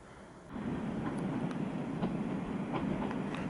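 A train rolls through Bełchów station, its steady rumble swelling in after half a second. Rhythmic wheel clicks run through it at moderate distance, with no talk.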